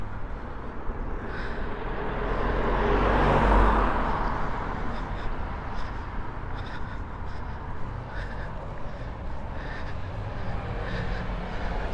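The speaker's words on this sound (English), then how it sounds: "Oops, here's a car." A car passes close on a street in Inverness, its tyre and engine noise swelling to a peak and fading away over a steady outdoor background.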